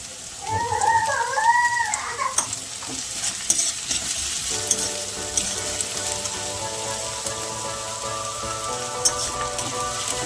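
Spring onion greens stir-frying in a pan for a Bengali pabda fish jhal, a steady sizzle with scraping stirs, loud and close, with no talk.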